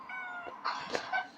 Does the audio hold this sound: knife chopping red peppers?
no